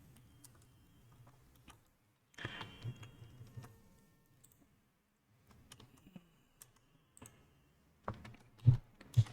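Intermittent bursts of computer keyboard typing during a Python calculator programming lesson, close and fairly quiet, with short clusters of clicks separated by pauses and a few sharper taps near the end.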